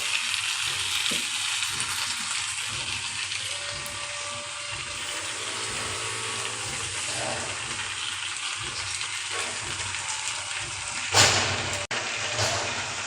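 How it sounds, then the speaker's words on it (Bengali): Washed leafy greens frying in a pan, a steady sizzle with stirring scrapes and occasional sharper clatters, close and continuous. "যে ধুয়ে রাখা শাকগুলো ছড়িয়ে রাখা সেগুলি এখানে এখানে অ্যাড করে দেবো"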